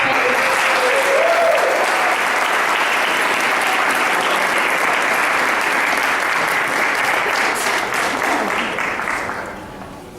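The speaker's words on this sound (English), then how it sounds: "Ladies and gentlemen, a big round of applause." A full audience at a formal event gives a loud, dense round of applause that holds steady for about nine seconds before fading out.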